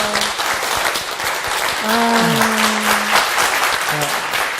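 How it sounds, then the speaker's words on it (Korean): A church congregation applauds steadily, a sustained wash of clapping from a large audience, with a faint sustained musical tone sounding underneath. "박수 한번 드리고 싶어요."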